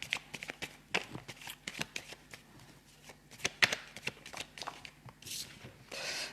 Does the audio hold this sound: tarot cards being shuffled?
yes